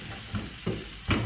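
Onion and crushed garlic frying in a pan, a steady close sizzle with a few short louder bursts as the food is stirred, no voices.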